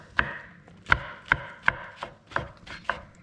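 A knife roughly chopping mushroom stems on a board for duxelles, about seven distinct sharp chops spaced unevenly, close and clear with no talk.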